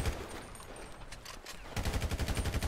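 Rapid automatic gunfire rattles in a GTA 5 shootout, a faster burst of repeated shots near the end after scattered earlier cracks.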